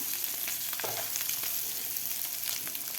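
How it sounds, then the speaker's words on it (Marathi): Eggs frying in a pan, a steady close sizzle and crackle of hot oil running evenly throughout, with no voices. "हे फ्राय करून घेतलेले आहेत अंडे"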